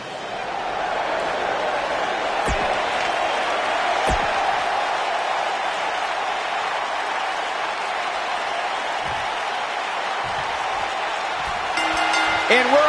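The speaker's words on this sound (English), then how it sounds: "The crowd is buzzing with excitement." A steady crowd murmur fills a basketball video game arena, a continuous dense buzz with a couple of sharp thuds and faint electronic beeps near the end, with no voices standing out.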